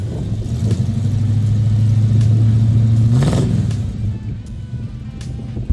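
A 1978 Chevrolet Camaro engine revs up, holds a rising whine for a few seconds, then drops back to a rough idle, loud and close.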